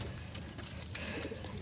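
Pigeons coo steadily in a breeder loft at feeding time, low soft calls layered with a few faint chirps, close by and continuous with no talking.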